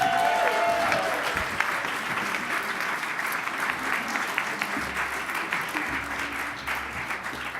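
Sustained audience applause at a New York City reception as the First Lady is introduced, dense steady clapping throughout with a faint murmur of crowd voices underneath.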